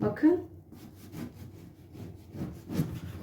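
A knife slices through a home-baked dish, producing soft, rhythmic sawing strokes close by, while someone talks over them.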